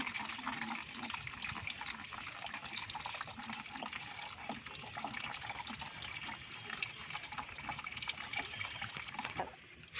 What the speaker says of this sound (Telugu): ఒక బకెట్ నీళ్ళకి ఒక చెంబు అంతే వడపోసేసుకొని